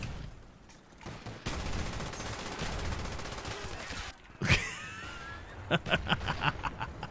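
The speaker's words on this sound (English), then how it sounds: "I'm using the Olympia shotgun." Bursts of shotgun fire from the Olympia in Call of Duty: Black Ops on PC, Nuketown map, with rapid loud blasts and a sharp shot near the middle, followed by scattered in-game effects and faint background voices.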